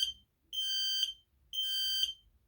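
A KN-COSM-BA smoke alarm sounds two long, loud, piercing electronic beeps, each lasting about half a second, with a short silent gap between them. The beeps stand alone, with no talk over them.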